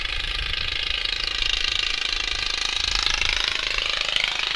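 Outlaw racing lawnmowers roaring off the start line in Petrolia, Ontario, a loud, rapid mechanical rattle of small engines revving together, with a rising whine building toward the end.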